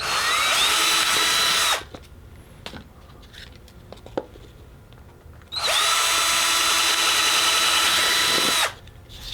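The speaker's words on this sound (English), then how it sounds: "and drill it out." Power drill boring through a disc held in a roll of tape while building a foam model bush plane, with two long loud whining bursts separated by a quieter gap of small knocks and handling sounds.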